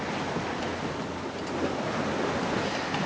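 Wakes from passing boats wash across open water in an Indian River estuary, a steady broadband surge of sloshing waves mixed with wind noise on the microphone, continuous and fairly close throughout.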